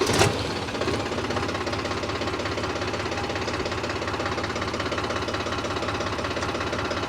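A new Mahindra tractor's diesel engine catches with a sharp start, then settles into a steady, close, loud mechanical idle with rapid knocking and clatter that carries on unchanged and alone.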